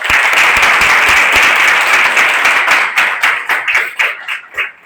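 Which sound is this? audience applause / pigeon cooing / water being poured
audience applause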